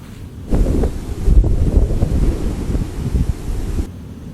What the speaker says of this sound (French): Le vent souffle tellement fort dehors.